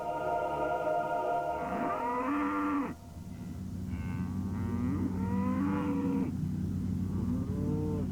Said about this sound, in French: Ces vaches ne sont pas des vaches ordinaires.